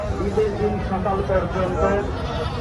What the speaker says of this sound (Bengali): মানুষদের ভিতরে আসলে ঢুকা যাচ্ছে না এত পরিমাণ মানুষের